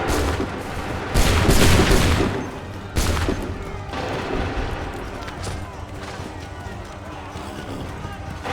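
Volley of musket gunfire in Assassin's Creed III, loud crackling bursts of shots fired together, fading into battle noise with shouting voices around them.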